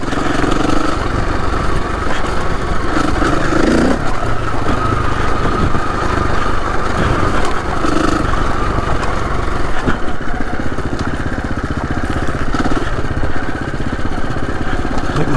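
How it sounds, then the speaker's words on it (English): A motorcycle rides a green lane on the south of the Isle of Man, its engine and exhaust giving a steady, loud, rough drone with a clattering edge that continues throughout, with no talking. "I don't know if it's my engine, my exhaust that I keep hearing, or it's him behind me."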